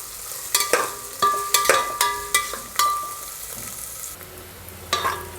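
Onions sizzle and fry in a pan for tomato rice while a spoon repeatedly stirs and scrapes them, giving close, sharp clinks and scrapes in an irregular rhythm over a steady hiss.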